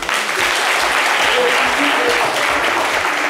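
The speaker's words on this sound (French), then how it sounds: "On peut l'applaudir très très fort." An audience applauds loudly for a volunteer on a French midday show, a continuous dense wash of clapping with voices and cheering mixed in throughout.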